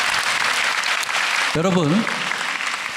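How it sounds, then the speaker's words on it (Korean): Applause from a lecture audience at a church recovery festival fills the room, dense and steady, while a voice briefly calls out over the clapping midway before the applause carries on. "박수 부탁드립니다."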